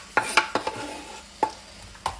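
Garlic goes into a pan of frying onions, with a soft sizzle underneath and several sharp clacks and scrapes of a utensil stirring against the pan at irregular intervals.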